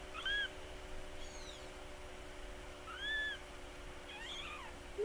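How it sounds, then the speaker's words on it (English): A small kitten meows several times, short high rising-and-falling cries spaced a few seconds apart against a quiet background, fairly faint with no voices. "Look at this precious little kitty."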